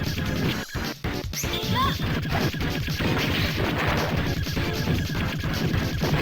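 In a vertical shooter arcade game, a boss shaped like a train locomotive has its side arm parts smashed apart, bringing sharp crashing impacts over a continuous dense barrage of gunfire and explosion effects.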